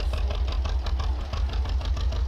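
A tractor engine idles steadily in a farming video game, a low continuous drone with faint rhythmic knocking, loud and close throughout with no talk.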